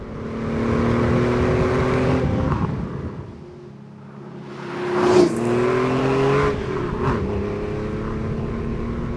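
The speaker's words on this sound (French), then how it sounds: "on comprend avec le bruit du moteur de la 911 qu'elle reste également une voiture de sport" A Porsche 964 911 sports car engine runs with a steady, throaty drone, swelling louder mid-way as revs rise briefly, then settling back to a constant hum with no talk over it.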